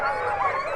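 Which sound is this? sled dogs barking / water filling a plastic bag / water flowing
sled dogs barking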